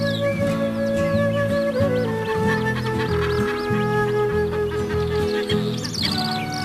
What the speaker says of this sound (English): Waterfowl and other birds appear as if by magic.